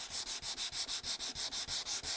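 Feather sanding on a cherry wood table, a steady back-and-forth rubbing with about a dozen even strokes in quick rhythm, close and fairly quiet, with no talking.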